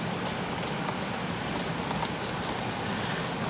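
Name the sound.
heavy rain falling during a thunderstorm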